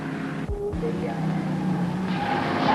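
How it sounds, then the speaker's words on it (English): 1960s Mini Cooper race cars, including BMC Works team cars, racing at Bathurst, with a sweeping engine roar passing close by and brief tire squeal, the buzzing motors rising toward the end over a background of commentary-like voice. "that wall of screaming Mini Coopers, headed by BMC Works team cars, Holden, Mackinnon, Foley"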